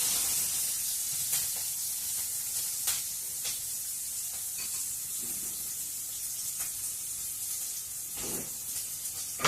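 Onions frying in a pan for tomato dal, a steady soft sizzle and hiss with occasional sharper crackles and a few stirring clinks, close by and without talk.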